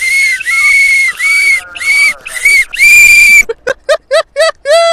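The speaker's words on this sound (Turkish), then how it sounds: "Evin içinde gerizekalı gibi biri düdük öttürüyor." A shrill whistle blown loudly in several long blasts, then a quick series of short sharp toots, close and piercing.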